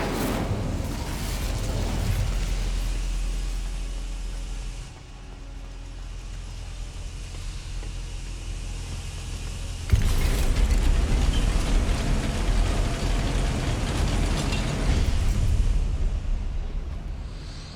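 Incendio fire spell cast in Hogwarts Legacy, a broad roaring whoosh of flame and magical burst, sustained and loud, surging again midway with a heavy rumbling blast.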